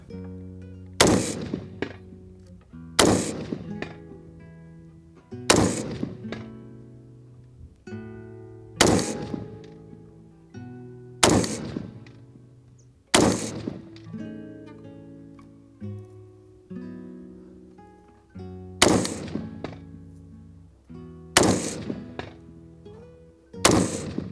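Ten sharp shots from an LMT MARS AR-15 rifle, evenly spaced a couple of seconds apart, each a loud crack followed by a ringing, decaying echo, with no talking.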